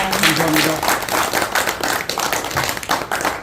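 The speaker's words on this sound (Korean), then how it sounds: "다시 한번 우리 상임 대표님께 큰 박수 부탁드리겠습니다." A crowd at an Incheon education coalition officers' training workshop claps steadily in a full, dense burst of applause lasting a few seconds, with a brief voice at the start.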